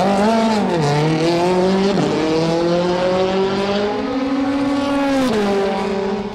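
BMW M3 DTM 2013 race car drives on track, its engine note loud and close as it climbs through the revs, dips on gear changes and climbs again in a continuous pull with no talking.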